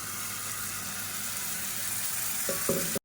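Small onions sautéing in a pan for onion thokku, a steady close sizzle throughout, with a couple of brief stirring clatters near the end.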